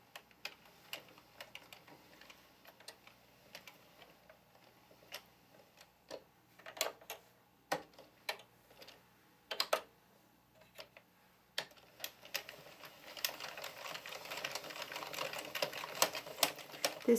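An Addi Pro knitting machine cranks through rows with quick, rhythmic clicking and ticking, sparse at first and then growing into a denser, louder run of clatter.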